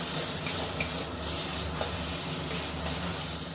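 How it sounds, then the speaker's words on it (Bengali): Ground red chilli paste stirred and fried in a pan for a Bengali chicken rezala, with a steady close sizzle and soft scraping stirs recurring every second or so, no talk. "দিয়ে এবার ভালো করে নাড়িয়ে এটা ভালো করে ভেজে নেব।"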